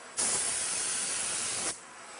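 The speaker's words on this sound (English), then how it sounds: "If I were spraying a finish, that's all finish that would be getting airborne into the shop." A conventional paint spray gun hisses in a workshop in one steady, continuous burst of about one and a half seconds, close and loud, starting and stopping abruptly with no talk.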